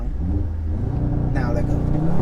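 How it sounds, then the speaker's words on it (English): An Audi RS3 runs at full throttle on a dyno, its engine rising in a loud, close rumbling roar that builds steadily, with voices talking over it. "Hit the gas all the way down."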